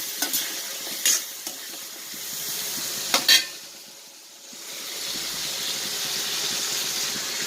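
Prawns roasting with onions in a pan, a steady close sizzle broken by a few sharp scrapes and clinks of stirring.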